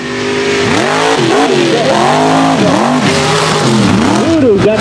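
Mega trucks race on a West Virginia mud course, their engines loud and close with repeated rising and falling revs in rhythmic surges, with a commentator's voice underneath.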